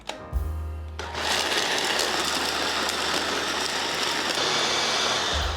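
A kitchen blender starts with a clunk and whirs loudly and steadily for several seconds, grinding a mix that includes Japanese brown sugar, salt and white pepper for a vegan bean crumb topping.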